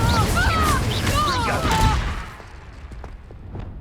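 Incendio and Confringo spells are cast in Hogwarts Legacy on Xbox Series X, giving loud rapid bursts of fiery, crackling blasts that fade into a quieter rumbling tail, with a character's voice heard over the effects.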